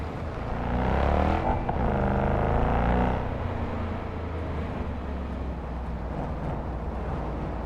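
Cars drive in the video game Cyberpunk 2077, giving a loud, steady engine drone with a rising, whining pass early on, then a smoother continuous road rumble.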